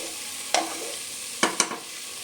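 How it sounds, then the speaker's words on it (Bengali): Bengali potato curry (aloo dum) sautéed and stirred in a pan over a low sizzle, with three distinct scraping strokes of the spatula, close up and without talk. "তো খুব ভালো করে নেড়ে চেড়ে আলুর দমটা আমি কষিয়ে নিচ্ছি।"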